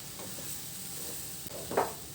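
Semolina (suji) fries in a pan for Assamese coconut laddu while being stirred, a steady soft sizzle and hiss with faint scraping strokes and one brief louder scrape near the end, close with no talking.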